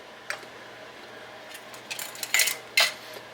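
A few light clinks and taps of metal lids placed on glass jars, scattered and close, with a sharper pair of clatters near the end in a quiet room.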